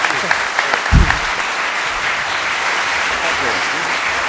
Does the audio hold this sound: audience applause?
yes